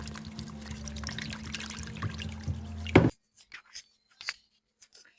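Water pours and trickles steadily as excess salt is rinsed off saltfish in a kitchen, a continuous splashing stream that stops abruptly partway, followed by a few faint drips and clinks.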